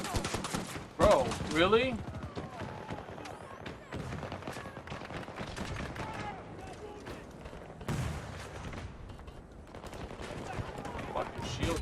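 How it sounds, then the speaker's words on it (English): Gunfire in the PS5 shooter Battlefield 2042: dense, rapid bursts of automatic fire and volleys that run almost without pause, loud and close, with a voice talking over them. "Who the fuck is shooting at me?"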